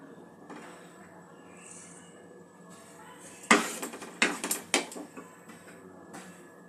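Milk powder stirred into a pan of boiling milk: a quiet simmer, then a short run of several sharp scraping clanks from the spoon against the pan before it settles again.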